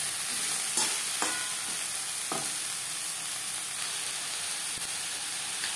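Ridge gourd, potatoes and spices being stirred in a pan while cooking, with a steady low sizzle throughout and a few soft scraping strokes of the spoon, close and fairly quiet, no talking.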